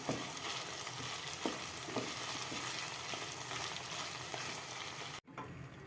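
Onions and green peppers frying in olive oil for menemen with a constant dense sizzle and occasional crackles, ending in a sudden cut to quieter sizzling.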